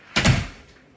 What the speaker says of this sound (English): Garage door closed.